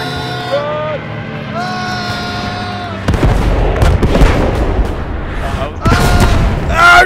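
Incoming artillery shell explosions in the World War II shooter Post Scriptum: a heavy blast lands around three seconds in, followed by rumbling impacts and a second loud burst near the end, over battlefield noise and voice chatter.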